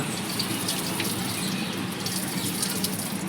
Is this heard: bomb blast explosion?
no